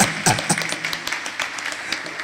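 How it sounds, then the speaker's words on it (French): Applause from an audience at a school closing ceremony, a steady dense patter of many hands clapping throughout, fairly close and continuous. "Quand on a fait ça, nous allons applaudir."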